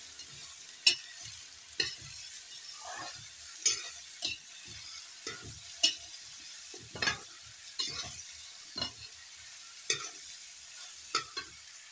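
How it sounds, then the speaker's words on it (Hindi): A spoon stirs and scrapes wild okra into a sizzling spice tempering in a pan, repeated soft clicks over a steady gentle sizzle of frying. "तड़के के साथ हम सब्जी को यहाँ पे मिक्स कर लेंगे।"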